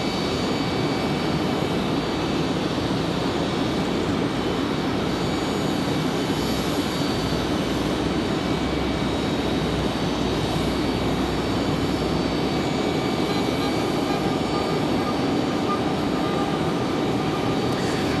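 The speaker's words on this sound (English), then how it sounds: "That Dreamliner coming up." A Boeing 787 Dreamliner on approach to Raleigh-Durham International gives a long, steady jet roar that stays broad and even for the whole stretch, with no one talking.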